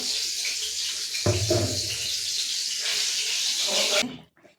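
Water pours into a hot cooking pan of curry where the oil has separated, making a steady close rushing hiss with a brief louder burst, then cutting off sharply after about four seconds.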